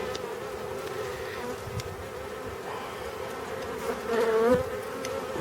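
Honeybees buzz steadily during a beehive frame inspection, a dense, close hum with individual bees swelling louder as they pass near.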